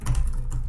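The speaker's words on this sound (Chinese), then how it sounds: "然后我们最后再来看一下键盘的感觉，键盘的手感呢稍稍有一点点脆" Brief burst of typing on the keyboard of a Lenovo Xiaoxin Air 14 2020 laptop with a slightly crisp feel, a quick run of close, soft key clicks lasting under a second.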